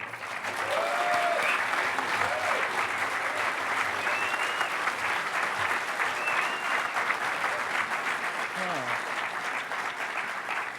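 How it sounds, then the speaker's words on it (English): Sustained applause from a big crowd welcoming Andy of the Yes Men to the HOPE Number Nine keynote, a steady roar of clapping with a few cheers and whoops over it. "Let's give him a big round of applause."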